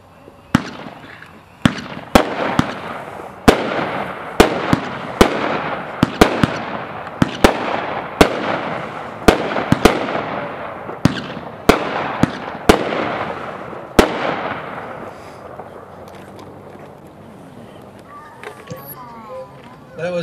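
A 12-shot consumer firework cake called Rise of the Devil fires a rapid series of sharp, loud bangs at an uneven rhythm for about fifteen seconds, the reports echoing before fading into quieter night ambience.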